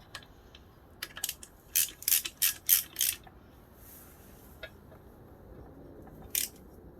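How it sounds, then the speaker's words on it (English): A small 1/4 inch ratchet fitted with an Allen head tightening on a Kawasaki KE102 motorcycle, giving a close run of sharp ratcheting clicks in short strokes, then a lone click after a pause. "I'm actually going to use my little 1/4" ratchet."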